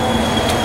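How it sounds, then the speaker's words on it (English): A Class 455 electric train rumbles past close by, with a steady roar and a high metallic squeal from the wheels. "Here comes Southwest train class"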